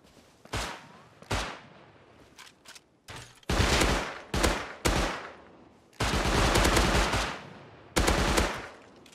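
Rapid automatic gunfire in the survival game Rust comes in repeated loud bursts, some short and some sustained, with sharp single shots between them and no talking.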